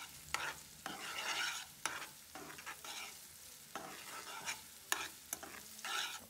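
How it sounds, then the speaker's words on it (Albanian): Sliced peppers, hot chillies and garlic frying together in a pan, a soft sizzle broken by repeated scraping stirs, each sharp burst of clatter followed by quieter bubbling, close and fairly faint. "Dhe i skuqim mire mire bashkë."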